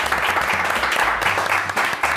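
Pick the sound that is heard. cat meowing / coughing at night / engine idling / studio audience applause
studio audience applause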